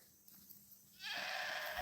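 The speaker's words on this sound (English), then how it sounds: "here comes more goats" Goats bleat from a farm as more arrive, a loud sustained bleat rising suddenly over quiet outdoor background, close to the microphone.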